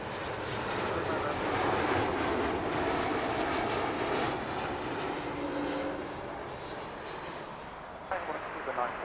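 An airliner roars on the runway at Heathrow Airport, a loud, sustained jet-engine rumble with a rising whine, while air traffic control radio chatter plays underneath.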